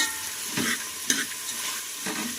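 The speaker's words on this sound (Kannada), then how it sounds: "ಒಂದು 2 ನಿಮಿಷ ಫ್ರೈ ಮಾಡ್ಕೊಳ್ಳೋಣ ಎಣ್ಣೆಲೇ ನುಗ್ಗೆ ಸೊಪ್ಪನ್ನ." Drumstick leaves frying in oil in a pan for sambar, a steady close sizzle broken by a few scraping stirs of the spoon, with no voices.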